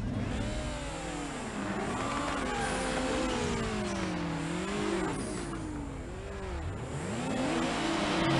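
Car engine revving hard for a drag race in Need for Speed Underground, a loud continuous game engine sound with rising and falling pitch as it accelerates and shifts, heard alone without talk.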